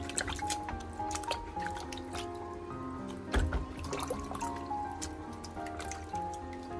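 Scallion roots being rinsed and swished by hand in a basin of clean water, with close, steady splashing, dripping and squishing sounds throughout and a brief louder slosh near the middle.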